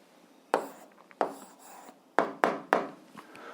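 Pen strokes scratch across a notebook page while an answer to an algebra equation is written down, in several short close bursts with brief pauses between them.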